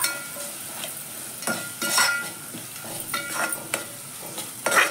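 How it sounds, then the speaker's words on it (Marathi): Garam masala and coriander powder stirred in hot oil for Maharashtrian shak bhaji, with soft sizzling under repeated scraping strokes of a spoon against the pan, close and moderately loud. "छान मसाले आपण तेलावर परतू"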